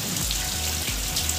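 Rain falling steadily on an afternoon, a continuous close hiss of drops with no voices, heard for only a moment.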